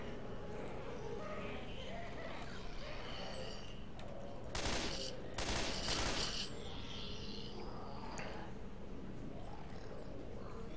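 Explosive-round gunfire in the video game Left 4 Dead 2: a couple of rapid bursts in the middle, set against steady game ambience, with players talking over it.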